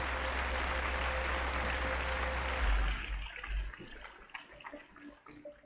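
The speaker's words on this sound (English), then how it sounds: "And a round of applause for you." Audience applause at the end of a radio open-line segment, a dense steady clatter of clapping for nearly three seconds that then thins into scattered fading claps.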